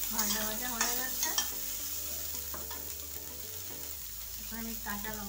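Samosa filling sizzles in a pan while being stirred, a continuous near crackle with a few spoon scrapes across the pan over a few seconds.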